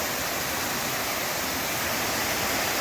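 Water pours over Li'l MO Falls in a dense, steady hiss of falling water, constant and moderately loud with no other sounds.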